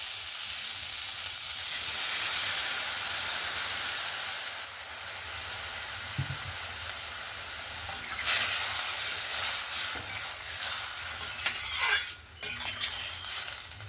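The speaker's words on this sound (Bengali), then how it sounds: "এখানে আমি পরিমাণ মতন জল দিয়ে দিচ্ছি সবজিটা সেদ্ধ হওয়ার জন্য" Water is poured into a pan of frying vegetables, raising a loud, steady sizzle and hiss that swells in bursts, with faint scraping and clinks of a utensil underneath.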